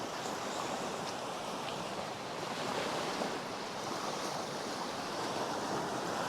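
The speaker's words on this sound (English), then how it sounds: "You must try and look at them waves over there when it comes in." Sea waves break on rocks along a North East coast with kelp beds, a steady broad wash of surf with gentle swells and light wind, no voices.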